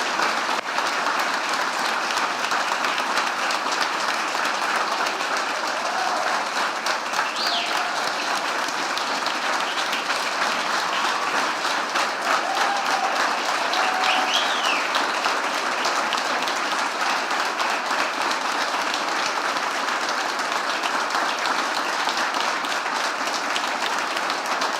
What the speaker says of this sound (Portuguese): Vamos glorificar a Deus com nossos aplausos e bendizendo o nome do Senhor Jesus.